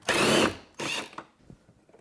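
A power tool zaps an 8mm bolt out of a 2022+ Subaru WRX door in two short bursts, the first longer, followed by faint clicks of handling, close by.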